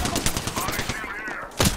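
Apex Legends gunfire, a rapid burst of automatic shots followed after a short gap by a single louder shot, sharp and close in game audio.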